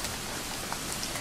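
Steady rain pours down in a cartoon setting on the way to a gold mine, a dense, even hiss of falling drops with no voices over it.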